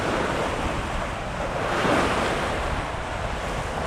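A Hallberg-Rassy 54 sailing yacht runs through waves at about nine knots off Florida, with steady rushing surf and water hiss along the hull mixed with gusty wind noise on the microphone.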